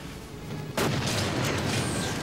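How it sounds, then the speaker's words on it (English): Loud, close explosion bursting in suddenly partway through at an outdoor pyrotechnic effects shoot, its broadband roar and rumble sustaining to the end with no talk. "typically there'll be maybe 8 to 12 different explosions going on"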